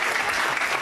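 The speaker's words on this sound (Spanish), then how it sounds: "El aplauso para Santiago de Uruguay" An audience applauds at a live GiaNNiNa show at Moon Puerto Madero, with dense, steady clapping filling the room at full volume throughout.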